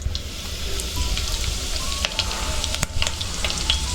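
Mustard seeds and curry leaves crackling in hot oil as tempering for dal khichdi; a continuous close sizzle with scattered sharp pops and spits, no voices.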